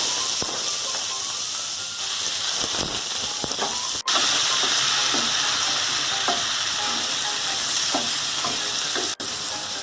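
Pieces of ash gourd tossed into mung dal frying in a pan and stirred, a loud steady sizzle and hiss with repeated spoon scrapes and clinks, two sharp knocks against the pot, no talking.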